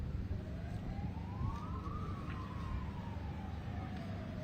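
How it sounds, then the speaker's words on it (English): A full-time siren hooter at an outdoor rugby nines finals match wails once, rising then falling in pitch, heard at a moderate distance over a steady crowd and ground ambience. "And there goes the siren, the hooter in the background."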